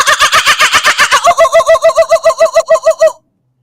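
A person imitates a kookaburra call, a rapid rhythmic run of loud, laughing hoots that climb into an even, cackling pulse before stopping abruptly.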